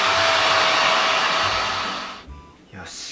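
A hair dryer blows loud and close while drying hair, a steady rushing whir that dips and briefly cuts out before starting again.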